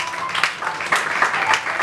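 A church congregation applauds and acclaims together in a steady wash of clapping and cheering voices, with several louder swells over about two seconds.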